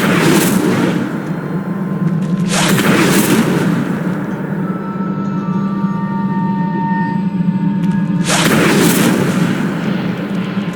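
Incendio fire spell cast in Hogwarts Legacy, loud fiery whooshing bursts over a constant rumbling bed, with three strong blasts spaced across the stretch.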